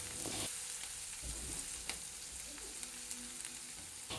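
Steady sizzling of onions frying in a pan over low heat, with occasional soft stirring scrapes and clinks, no voices.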